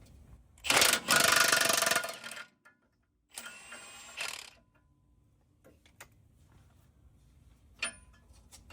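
A 3/4-inch drive impact wrench with chrome sockets, used on track bar bushing and bracket replacement on a 2017 Super Duty, fires two loud rattling bursts, the first about two seconds long, the second shorter, followed by faint clicks.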